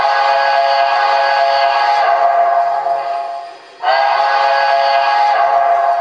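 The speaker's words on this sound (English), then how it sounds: "and now the MTH whistle again" A sustained chord-like steam whistle from an MTH model train, a Reading & Northern Pacific locomotive, fading briefly in the middle before a fresh loud blast resumes and holds.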